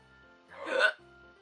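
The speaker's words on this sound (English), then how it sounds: "Oh my gosh, I've given myself the hiccups." A single soft hiccup rises briefly over a quiet, steady tonal background, sharp and close, lasting under half a second.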